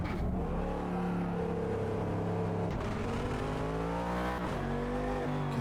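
A race car in the Automobilista 2 sim racing game, its engine loud and close, revving up and down through shifts with a strong harmonic whine and brief tire-scrub sliding, no voices.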